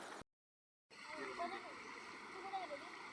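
A river flows steadily nearby in the Konkan countryside, a continuous wash of rushing water with light splashes that begins after a moment of silence.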